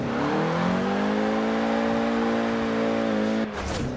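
A front-wheel-drive car in Forza Horizon 4 holds a loud, steady engine note in first gear for over three seconds, then the tone cuts and shifts abruptly, with no talking.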